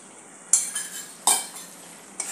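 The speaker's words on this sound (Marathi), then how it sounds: "आणि सर्व एकत्र करून घेऊया।" A spoon scrapes and clinks against a pot while curd is stirred into a chicken mixture, in three short bursts of metallic scraping with quiet gaps between.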